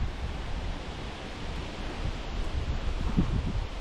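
Steady broadband rush of the Fraser River, a cold, powerful current flowing close by; a continuous wash of water with no voices, holding even throughout with a slight swell near the end.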